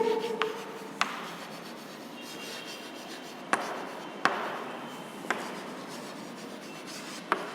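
A sentence being written on a board during an English grammar lesson: continuous scratchy stroking with several sharp taps where strokes begin, close and fairly quiet, with no talk.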